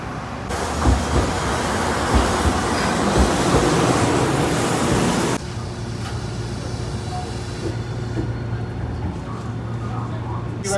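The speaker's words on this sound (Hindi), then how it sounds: "सो हम अभी बैठ गए हैं ट्रैम में" Inside a moving tram in Hiroshima, Japan, a loud, continuous rumble and roar of wheels on rail drops to a quieter steady hum partway through, with faint voices in the background.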